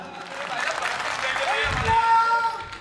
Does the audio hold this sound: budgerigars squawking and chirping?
no